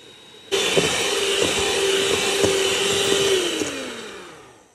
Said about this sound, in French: Battre les ingrédients jusqu'à ce que ça devienne crémeux.